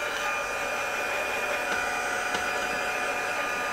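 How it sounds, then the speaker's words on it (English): A heat gun blows in a steady, loud rushing whoosh over colored paper, a constant airy drone that runs without a break or any talk. "we're going to hit this with the heat gun"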